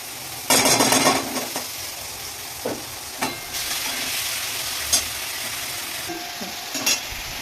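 A garlic and tomato paste with turmeric hits a hot pan and is fried and stirred: a loud burst of sizzling at first, then a lower frying hiss with scattered utensil clinks and scrapes against the pan.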